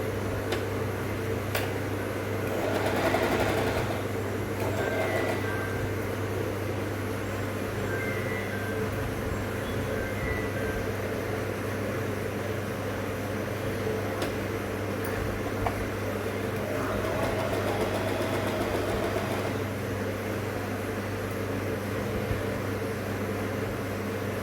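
A Usha Wonder Stitch sewing machine runs with a low, steady mechanical hum and faint rhythmic ticking, fairly quiet and continuous throughout.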